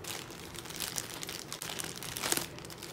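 Plastic and cardboard packaging of a Beyblade Burst Superking Super Hyperion toy tearing and crinkling up close, a dense, continuous rustle with sharper rips near the end and no talk.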